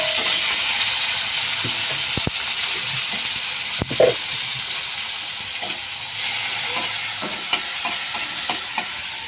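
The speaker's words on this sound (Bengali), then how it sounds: "হয়ে গেছে, এবার আমি টমেটো কাঁচা লঙ্কা দিয়ে দেবো।" Fish frying in a pan sizzles steadily as tomatoes and green chillies are added, with a continuous hiss and a few soft clicks and stirring knocks over it, with no talking.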